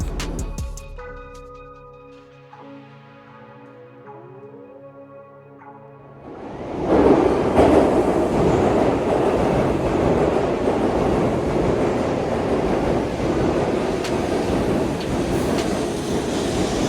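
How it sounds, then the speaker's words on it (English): A few seconds of quiet tonal hum, then a bullet train in Japan rushes in with a loud, steady roar and rumbling rail noise that continues to the end. "I'm about to hop on this bullet train"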